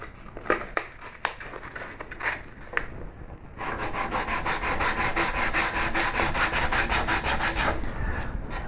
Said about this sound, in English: Then you can wrap that in a bit of sandpaper